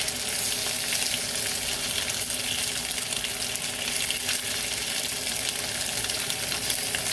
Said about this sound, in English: You want to hear that fine sizzle.